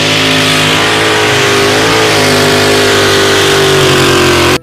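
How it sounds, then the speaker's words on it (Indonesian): A toy off-road car's engine sound revving at a steady high whine with a buzzy tonal drone, loud and close, holding throughout before cutting off abruptly at the end. "yang ini mobil off-road teman-teman"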